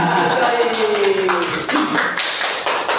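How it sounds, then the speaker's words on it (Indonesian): Students clapping together in a school classroom during a lesson on positive school culture, a series of sharp rhythmic claps close by, with a voice speaking over them. "Ya, tepuk Tangan"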